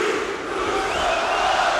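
A wrestling arena crowd roars and cheers in a dense, sustained wall of voices, loud and steady with a slight swell toward the end.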